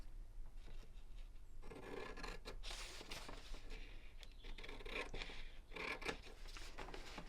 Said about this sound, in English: we're going to cut away the two top corners